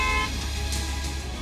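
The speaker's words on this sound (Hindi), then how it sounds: "सुनाई देगा तो सिर्फ हॉर्न बजाती गाड़ियों का शोर।" Car horns honk on a busy road, with a steady traffic rumble underneath and short horn toots standing out near the start.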